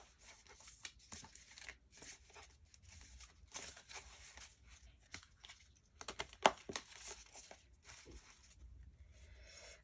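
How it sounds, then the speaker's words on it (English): An oracle card deck is shuffled by hand, giving soft, quiet papery rustles and flicks in irregular bursts with brief pauses, close and alone. "I'm gonna try to shuffle and see what else comes out."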